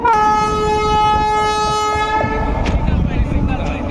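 A loud horn from a WAP-5 electric locomotive blares for about two seconds, then the CRS special train rumbles past nearby on the Nashipur rail bridge, with rattling wheels on the track.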